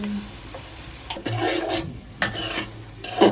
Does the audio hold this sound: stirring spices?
yes